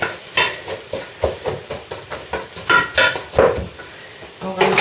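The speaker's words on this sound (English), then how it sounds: "give it a stir." Vegetables for homemade tomato ketchup stirred in a pan over low heat, rhythmic scraping and knocking strokes in a steady back-and-forth pattern with a light sizzle, loud and close.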